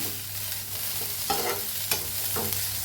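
Garlic cloves roast in oil in a pan as a spatula stirs them, giving a continuous sizzle with a few brief scraping strokes over a low hum.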